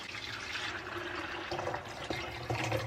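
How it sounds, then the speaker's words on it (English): Water pours steadily into a drip coffee maker's reservoir at home, a soft continuous trickle heard up close with a few small knocks. "I just pour my water in."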